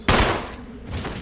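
A single loud, close gunshot bursts in the Resident Evil HD Remaster game and fades into a short echoing tail, followed by a softer swell of noise.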